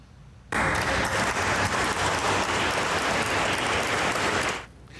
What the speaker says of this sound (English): A room full of people applauding students with those perfect scores.